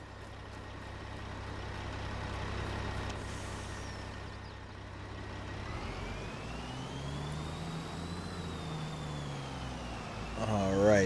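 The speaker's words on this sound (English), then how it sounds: "Let's go ahead and go hop back in the truck" A truck in Farming Simulator 22 rumbles at idle, then its engine note rises and shifts as it pulls away, with a steady low drone and a closing burst of noise.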